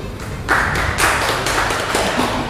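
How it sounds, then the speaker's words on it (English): Audience applause for a speaker at a national basketball championship conference, a dense clapping wash that swells after a quiet start and holds steady, with some sharper individual claps standing out. "Round of applause for Mr. Sim."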